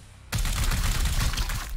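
Sustained burst of rapid game gunfire erupting suddenly after a quiet moment, dense and loud, continuing steadily without talk, during a fight with Munificus against a Spreader.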